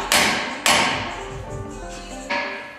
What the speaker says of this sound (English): when you hit it with a hammer, it shocks the bolt even more